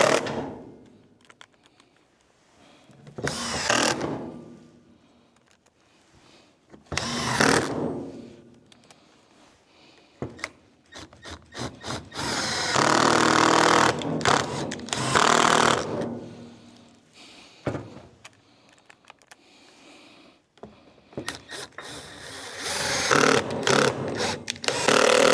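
A power driver sinks wood screws into a wooden piece, sounding as repeated whirring, ratcheting bursts of several seconds each, separated by short quiet pauses.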